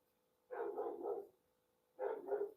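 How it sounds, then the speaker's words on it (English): A dog barks in the background, one burst of three quick barks followed after a pause by a double bark, faint and distant. "Sound like that dog is cutting up."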